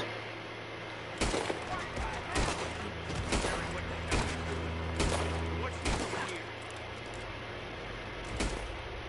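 Video game gunfire goes off in a scattered series of sharp shots, about eight over several seconds, at moderate loudness over a steady background hum.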